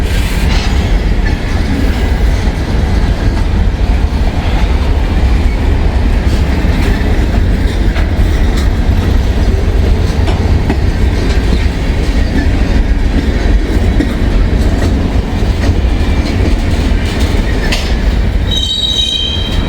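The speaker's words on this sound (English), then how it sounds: "Not a very long train." A short freight train rolls steadily past on railroad tracks in Overpeck, Ohio, a loud continuous rumble with wheel squeal and clacking heard up close throughout, under an open sky.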